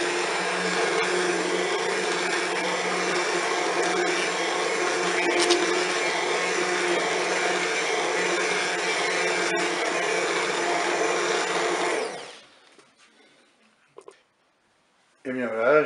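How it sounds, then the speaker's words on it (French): A Cookeo blends a velouté soup with a loud, steady motor whir that runs close and unbroken for about twelve seconds, then cuts off into near silence broken by a few faint knocks. "Allez, c'est parti pour le mixage."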